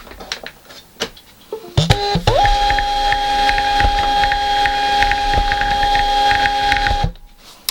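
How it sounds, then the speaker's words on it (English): A home printer runs off postage labels, its steady mechanical whir and feed motor humming loudly and continuously for about five seconds after a few clicks and bumps as it starts, then stopping abruptly. "I'm going to get the postage labels for just one of them. Oh, my printer's not plugged in."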